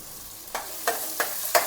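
Masala for a Maharashtrian home-style rajma roasting in a pan, heard as four quick scraping stirs over a low, quiet sizzle.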